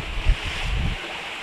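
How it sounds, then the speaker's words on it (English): A sailboat runs on a beam reach in a 16-knot southwest wind off Brittany, France, with a steady rush of wind and water and a low buffeting thump at the start. "we've got an awesome wind, southwest wind"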